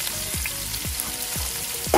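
Braising vegetables tipped into a hot Dutch oven set in a gas grill sizzle steadily and loudly, a dense frying hiss with a few scraping stirs, close up and without talk.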